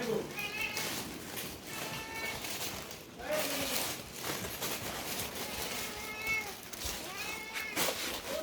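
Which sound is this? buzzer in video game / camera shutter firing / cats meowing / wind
cats meowing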